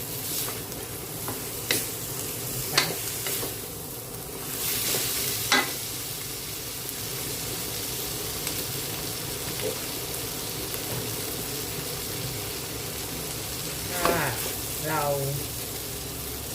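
Cucumber with egg stir-fries in a pan, a constant sizzle under scattered scrapes and taps of a spatula, with a voice talking over parts of it and a brief splash of water near the end.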